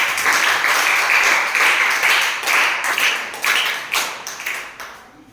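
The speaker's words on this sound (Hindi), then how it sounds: "आप कक्षा की शुरुआत जोरदार तालियों के साथ करें" A class of students applauds loudly at the start of a lesson, a dense burst of many hands clapping that holds steady, then thins into scattered claps and fades out near the end.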